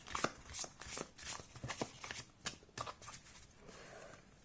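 A deck of Lustrous Lenormand cards with rounded corners being shuffled close by: a quick run of soft, papery riffling taps and flicks over a few seconds, quiet and alone.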